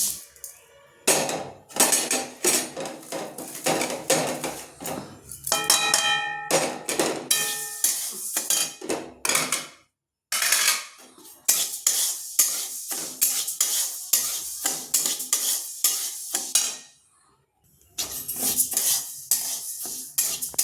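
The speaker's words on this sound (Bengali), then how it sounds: "একই সিস্টেমে মুগ ডালটাও ভেজে নেব।" Mung dal frying in a pan while a spoon stirs it, producing repeated close scraping and clattering strokes with light sizzle, broken by a couple of short silent gaps.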